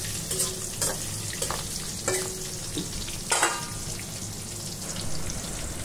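Fish frying in oil in a pan at home, steady crackling sizzle throughout with a few louder pops and spatters, close and with no one speaking.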